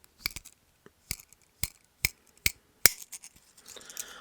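Cold Steel Kudu ring pull knife clicking as it is worked up close, a series of sharp isolated clicks spaced about half a second apart, followed by a soft rustle at the end.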